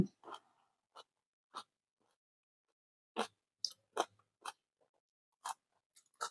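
Someone eats spicy Thai-style sour green mango salad bought at a market, giving a handful of separate crunchy bites and wet chewing noises spread across a quiet stretch, close up with no talking.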